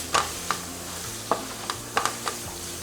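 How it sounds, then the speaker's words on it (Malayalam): Egg biryani masala being stirred with lemon juice in a pan: sharp scrapes of a spoon, about eight spaced strokes, close and moderately loud over a soft background hiss. "ഇത് നന്നായിട്ട് മിക്സ് ചെയ്തെടുക്കുക."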